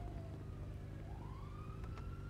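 Police car siren in the GTA V video game, a wailing tone that rises and falls steadily across the clip over a heavy low engine rumble, moderately loud and continuous with no talk.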